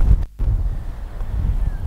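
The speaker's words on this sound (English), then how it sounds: "Man, it is so windy here" Strong gusts of wind buffet the microphone, a low rumbling roar with a brief drop before it surges again.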